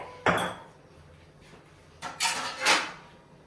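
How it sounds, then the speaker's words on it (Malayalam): Close, bright clatters of ceramic and metal in a home kitchen as a plate is taken out, with a single knock and then a short cluster of clinks and scrapes. "ഒരു പ്ലേറ്റ് എടുക്കട്ടെ"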